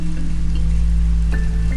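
Rain falls steadily in a village, making a continuous dense patter with a low rumble underneath and no voices.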